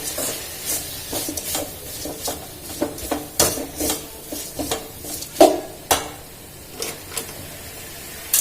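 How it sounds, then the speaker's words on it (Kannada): Chutney frying in oil, stirred with a utensil that scrapes and knocks against the pan in repeated sharp strokes over a soft, constant sizzle. "ಇದು ಪಚ್ಚಡಿ ಆಗೋವರೆಗೂ ಫ್ರೈ ಮಾಡಬೇಕು ಫ್ರೆಂಡ್ಸ್"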